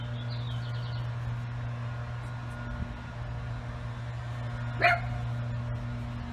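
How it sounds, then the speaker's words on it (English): A small dog barks once, a short sharp yelp at middle distance over a steady background hum, with no talking. "And little dog's barking."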